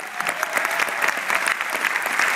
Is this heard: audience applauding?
yes